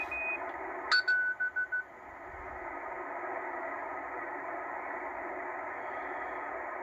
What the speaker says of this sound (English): And you actually hear some Morse code right now.